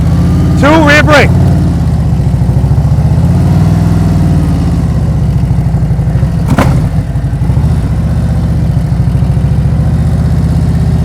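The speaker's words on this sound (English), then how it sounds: "you're going to hear my RPMs go up right there. The bike was just at idle." A motorcycle engine idles steadily at close range during slow-speed riding practice, its low hum building slightly as the revs rise. A voice speaks briefly near the start.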